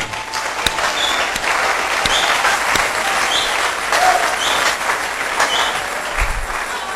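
A church congregation at a sermon on marriage breaks into loud, sustained applause that fills the whole stretch as a dense, even roar of clapping.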